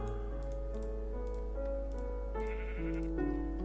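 Sheep in the video game Minecraft bleat repeatedly in stepped, tonal calls over a steady low hum, with faint keyboard tapping underneath and no talking.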